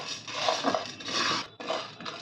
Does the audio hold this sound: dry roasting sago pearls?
yes